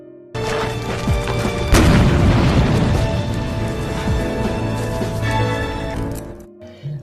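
A car explodes in a Korean drama scene, a sudden loud booming blast followed by sustained roaring, crackling rumble that slowly fades out.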